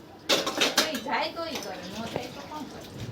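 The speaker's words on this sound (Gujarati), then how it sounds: "હા જોઈ લો, વાસણ કરે." Household utensils being washed by hand at home, metal pots and dishes clanking in several sharp, close knocks and scrapes while someone talks over them.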